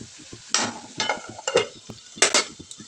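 Food frying in a pan is stirred in several irregular, close scrapes and clatters of a utensil against the pan, set over a low continuous sizzle.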